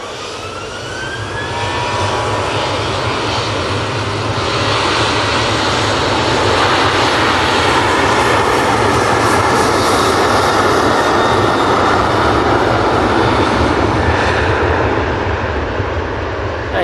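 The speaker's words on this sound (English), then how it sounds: "I'm going to stay on this Ryanair instead of the prop." A Ryanair jet airliner roars loudly at Manchester Airport, its engine noise swelling over the first few seconds and then holding a broad, sustained rumble with a faint whine; no talking.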